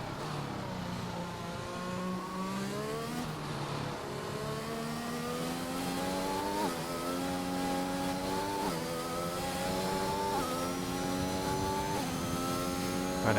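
A race car in a sim racing game on a wet China circuit howls down the back straight, its engine climbing in pitch through repeated upshifts, loud and steady with no talk.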